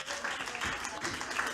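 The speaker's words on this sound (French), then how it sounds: "Applaudissez pour elle" Applause for a woman honoured at a Pan-African trophy awards event, a dense wash of clapping from a crowd that runs steadily through the short moment, with voices murmuring beneath it.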